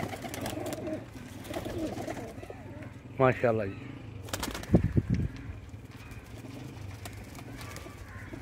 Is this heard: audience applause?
no